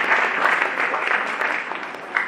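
Audience applause at a music school concert in a cultural hall, a sustained burst of many hands clapping steadily at close range, dense and even throughout with no talking over it.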